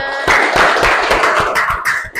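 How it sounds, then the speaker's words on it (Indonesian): A group of people clapping their hands together in a classroom-style setting, a loud, steady burst of overlapping claps running throughout with no talk. "tepuk tangan semuanya"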